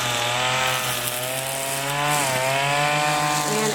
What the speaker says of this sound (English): John just started some weed eating, as you can see and hear.